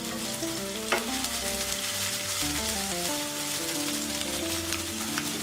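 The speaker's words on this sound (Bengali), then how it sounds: "পেঁয়াজটাকে আমি ব্রাউনি করে ভাজবো।" Chopped onion fries in a pan, a steady soft sizzle close by, with a spoon knock near the start and light stirring, while faint music plays underneath.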